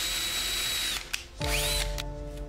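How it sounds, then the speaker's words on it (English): A power drill bores 6mm holes through a metal hinge, whirring steadily at close range, pausing briefly, then spinning up again for a second hole. "I take the hinge, then drill all the holes with size 6mm."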